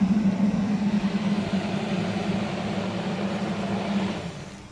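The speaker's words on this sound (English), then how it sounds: "This is our new electric prototype that's quiet, light, and efficient using a small electric motor that's about 100 watts." A quiet electric bug vacuum prototype driven by a small electric motor of about 100 watts, a steady low hum with a constant tone, heard alone before it fades slightly at the end.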